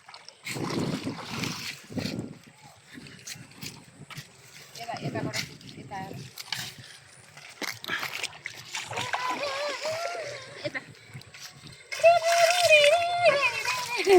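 People splashing and playing in very cold water at an outdoor New Year picnic spot, irregular splashes and water movement close by, mixed with excited voices and chatter throughout, louder shouting near the end.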